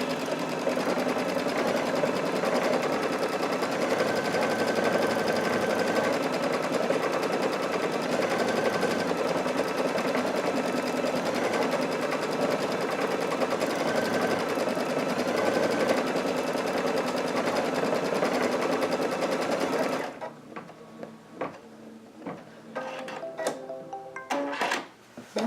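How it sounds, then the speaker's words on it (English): An embroidery machine stitches out a sashing pattern in a fast, steady, loud mechanical chatter for about twenty seconds, then stops, leaving a few scattered clicks and light handling noises. "we're not going to have to sit and watch this stitch out all the way"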